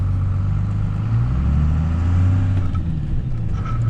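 A 1st Gen Cummins truck engine on a test drive, a steady low diesel drone holding close and loud throughout with slight swells in pitch as it pulls, no voices over it.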